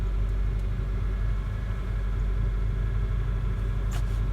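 A 2002 Volkswagen Jetta with a 2.0 engine idles just after a cold start, a steady low rumble close by with no talking over it.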